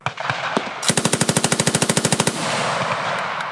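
Machine gun fire in a combat setting with Taliban fighters, a rapid sustained burst of about twenty evenly spaced loud shots after a few scattered pops, followed by rumbling noise, with no talk.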